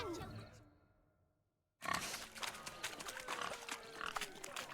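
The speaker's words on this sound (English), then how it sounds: "Blustering about after pigs, are you?" Pigs grunting and squealing in the video game The Witcher 3, busy repeated snorts and squeals at moderate volume that start abruptly after a fading stretch and a moment of silence.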